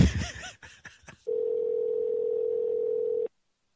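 After a short burst of garbled voice and clicks, a steady telephone dial tone sounds once the call has been disconnected. It is a single unbroken hum held for about two seconds before cutting off.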